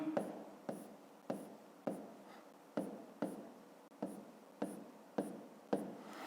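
Pen or marker strokes marking a math problem drawing for a fifth-grade exercise, about eleven short scratchy strokes in a steady rhythm, close and quiet, with no talk over them.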